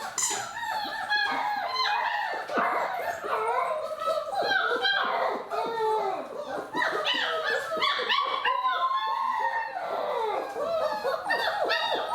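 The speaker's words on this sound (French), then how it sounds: "les chiots qui pleurent de plus en plus" Young puppies about four weeks old whimper, squeak and cry almost continuously, several voices overlapping in high-pitched whines and yips, close and fairly loud with no pauses.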